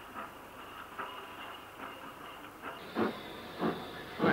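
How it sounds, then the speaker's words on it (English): WD class steam locomotive 90233 of Wakefield runs onto shed after a Trans-Pennine freight, a steady hiss of steam under rhythmic chuffing that grows louder and more distinct toward the end. "WD90233 of Wakefield comes on shed, having worked a Trans-Pennine freight from Merfield"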